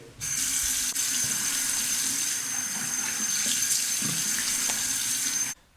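Water from a bathroom tap runs steadily into a sink before a shave, a constant close hiss that starts abruptly and cuts off near the end.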